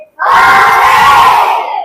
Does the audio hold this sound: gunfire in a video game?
no